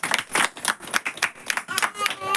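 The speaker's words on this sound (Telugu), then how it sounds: "గట్టిగా చప్పట్లు కొడతాం" Audience at a Christmas church sermon clapping hard in rhythmic bursts, loud close claps repeating at a steady beat for a couple of seconds.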